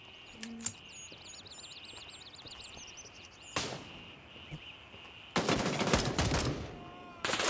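Gunfire in the video game Gray Zone Warfare, with a couple of sharp shots and then a louder burst of rapid fire over a backdrop of chirping birds.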